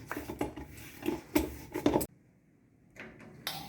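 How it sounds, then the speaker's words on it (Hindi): An iron kadhai set on the stove to heat ghee, a few close metallic clanks and scrapes of the pan, followed by near silence and one last knock. "देखिए हमने कढ़ाई चढ़ा दी है, घी गर्म करने रख दिया है"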